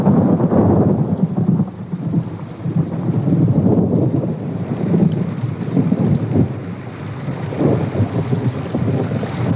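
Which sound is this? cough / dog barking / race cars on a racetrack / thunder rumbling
thunder rumbling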